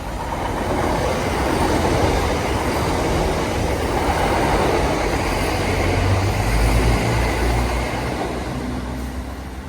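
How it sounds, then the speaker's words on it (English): A five-car local passenger train, a three-car and a two-car set coupled together, runs through a station without stopping, a loud steady rumble of wheels and motors filling the whole stretch with no talk. "There's a local service here, but it's not stopping here."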